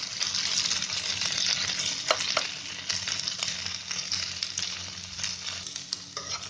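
Ivy gourd (tendli) shallow frying in a pan over high flame, a loud continuous sizzle with intermittent stirring scrapes close by, no talk.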